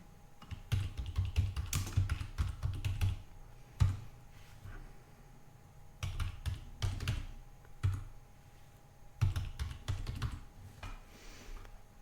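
Bursts of typing on a computer keyboard as a lowercase username is entered during a Solus Linux install, quick clusters of key clicks separated by short pauses, close and fairly soft.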